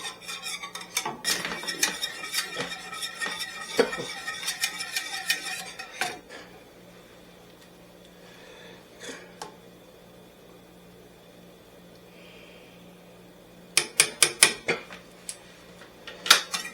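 A custard bowl being washed in a kitchen sink, bursts of clinking and clattering dishware near the start and end with quieter running-water rustle between.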